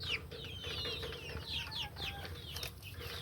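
Native hens cluck on a chicken farm in a busy overlapping chorus of short calls, steady throughout and fairly close.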